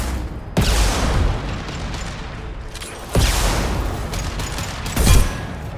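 Gunfire in Mass Effect 2 rings out as three heavy, sharp blasts spaced a couple of seconds apart, each followed by a dense crackling, rumbling tail of battle noise.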